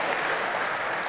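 Steady polite clapping from a crowd at the Gamescom games convention, an even, continuous patter of many hands at moderate level, no talking over it.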